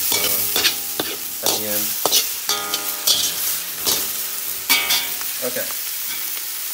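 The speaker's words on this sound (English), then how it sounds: "I want to fry that rice." Rice stir-fried in a pan with egg for steak fried rice: loud close sizzling broken by repeated scraping and tossing strokes of a utensil, with a voice speaking briefly near the end.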